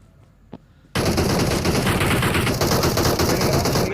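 Automatic gunfire in PUBG Mobile bursts in loud and dense after a near-silent opening with one faint tick. It sustains as a rapid, continuous rattle through to the end.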